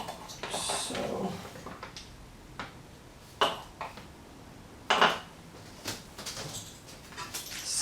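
A spoon stirring vegan bolognese sauce in a pot, with soft scraping broken by a few sharp clinks and knocks against the pot's rim.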